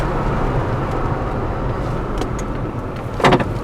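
Smooth, continuous road noise from a 1971 Chevelle in motion, with a soft rumble and a brief click or thump near the end.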